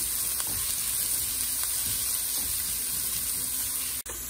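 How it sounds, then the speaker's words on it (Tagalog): Onion sizzles in cooking oil for vegetable lumpia, a steady close frying hiss with faint stirring ticks, ending in a sharp knock. "Atong ilunod ang atong sibuyas bombay."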